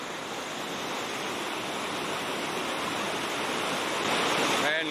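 Whitewater rapids pour over a big drop on a river, making a loud, steady roar of rushing water that swells slightly toward the end, heard alone with no talk.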